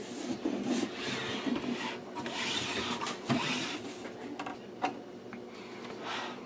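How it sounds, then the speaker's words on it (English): Pozidriv screws being worked loose with a screwdriver while opening an HP 431C power meter, giving a steady close-up rubbing, rasping scrape with small ticks and clicks throughout, no talking. "use a Posi drive, a screwdriver on these things, because they're almost always guaranteed to be Posi drive screws"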